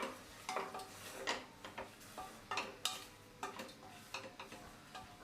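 Mushrooms being stirred in a pressure cooker with pink Himalayan salt, a spoon scraping and tapping the metal in a quick, irregular rhythm of about a dozen close, sharp strokes.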